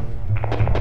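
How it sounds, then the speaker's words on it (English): Several quick, dull knocks of a video game pickaxe striking rock, clustered in a short burst over a low steady hum. "You hit the rock."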